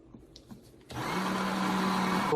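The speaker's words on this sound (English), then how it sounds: "keeping the bell of your immersion blender all the way down on the bottom" An immersion blender mixes a melt and pour shampoo base, with quiet clinks at first before the motor starts abruptly into a steady, loud whirring hum that runs to the end.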